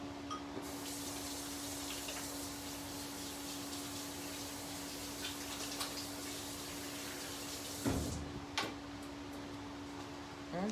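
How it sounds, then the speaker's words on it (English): Tap water runs steadily as buttery hands are washed in a kitchen sink while making lemon bars, a continuous close rushing hiss that cuts off near the end, followed by a couple of light knocks. "let me wash this off my hands"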